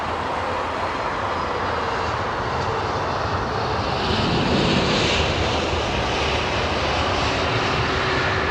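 British Airways airliner landing at Heathrow with only light reverse thrust, a loud sustained jet roar that swells midway as the reversers come in, heard alone without voices.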